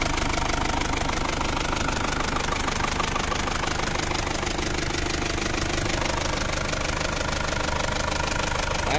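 Diesel engine of a seven-seat automatic car running, a loud, steady, close mechanical clatter with a constant knocking rhythm throughout, with no talking.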